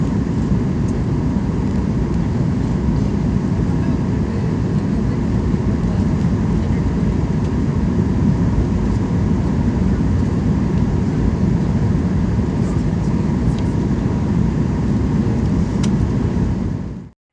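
Steady broadband roar inside a passenger airplane cabin in flight on approach to Kolkata from Chennai, a constant loud drone of engines and airflow throughout with no talking.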